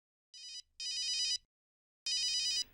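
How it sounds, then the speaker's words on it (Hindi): A telephone rings in three bright electronic bursts, two close together and a third after a pause, crisp and alone with no talk. "डॉक्टर नियति का फोन है, क्या करूं?"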